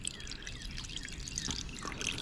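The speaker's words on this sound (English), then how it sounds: "So if I pour some water in here, I just pour a little bit here." Water poured in a short stream onto the floor of a Lexus GX470 during a leak test, a close, steady splashing pour lasting a couple of seconds.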